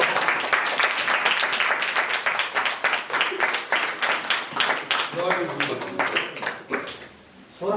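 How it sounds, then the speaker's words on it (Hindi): A church congregation claps loudly for nearly eight seconds, dense overlapping applause with scattered shouts and voices mixed in, tapering briefly near the end. "तालियां हो जाएं।"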